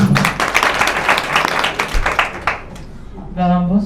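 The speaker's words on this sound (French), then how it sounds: "On l'applaudit très très fort." A burst of crowd applause and cheering at a press conference for a song festival in Mauritania fades out, followed by a voice beginning to speak over a microphone.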